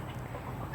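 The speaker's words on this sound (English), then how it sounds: "But there are a lot of chickens. You see that rooster right there?" Chickens and a rooster cluck faintly and softly in a barnyard, with low murmuring bird calls that last under a second.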